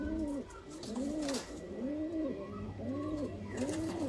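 Several female pigeons coo close by, their soft rolling calls rising and falling in a steady repeating pattern over a low background hum, with no talking.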